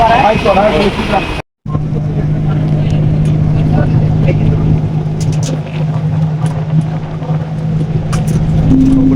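A bus bound for Darbhanga, Bihar, idles with a steady low engine hum, near and fairly loud, with a brief dropout early on and people talking over it.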